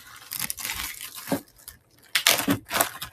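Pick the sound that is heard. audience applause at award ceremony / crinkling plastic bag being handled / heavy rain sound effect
crinkling plastic bag being handled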